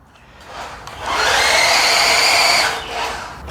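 Electric motor of a WPL D14 Suzuki Carry RC kei truck, golf edition, whining as the throttle is raised, held up off the ground, a loud high buzzing whir that swells, holds steady, then drops back.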